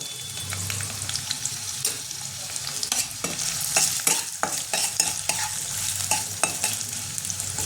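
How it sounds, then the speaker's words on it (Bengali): Onions frying in hot white oil in a kadhai, a steady close sizzle broken by frequent scraping and clattering stirs of a spatula against the metal. "পেঁয়াজটা আমার ভাজা হয়ে গেছে।"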